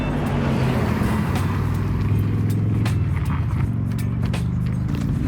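Car pulling up by the roadside in Denmark to pick up a hitchhiker: a steady, fairly loud engine rumble with low droning tones close by and some soft clicks and rustles, no speech.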